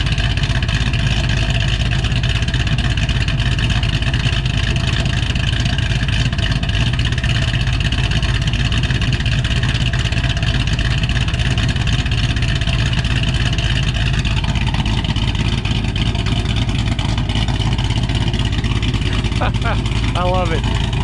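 A cammed Ford GT500 engine idles on its finalized tune, a loud, close, lumpy rumble with a choppy uneven pulse holding steady throughout, with a brief voice near the end.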